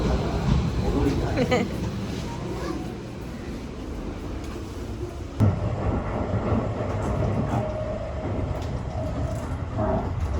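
A Tokyo subway train at a station gives off a steady rumbling, rattling roar with a brief clank midway, while people talk nearby.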